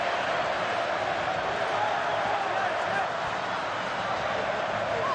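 A packed stadium crowd roars steadily at a World Cup qualifying football match between Peru and New Zealand, a dense, loud, unbroken wall of noise that fills the whole stretch.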